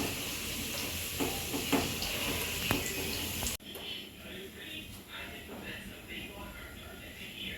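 Cumin seeds go into hot oil with a strong crackling sizzle that cuts off sharply partway through, leaving a softer hiss, while a person talks under it, in a Bengali jackfruit curry recipe.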